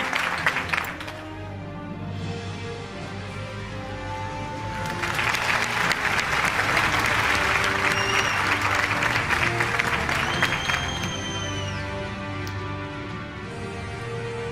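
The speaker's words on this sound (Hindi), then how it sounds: "ladies and gentlemen, तालियां होनी चाहिए।" Sustained applause fills a hall during an annual news-network award show as a team is called onstage, swelling midway and staying loud, with some cheering and a few whistles mixed in.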